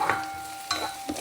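Sliced onions sauté in a hot pan, a steady close sizzle broken by a few short scraping stirs, with a faint electrical hum running underneath.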